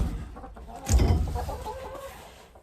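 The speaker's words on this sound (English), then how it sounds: "We've got the chickens in the greenhouse." Chickens in a greenhouse cluck and murmur, with a fuller burst of hen calls near the middle that tapers off, close by and alone without talk.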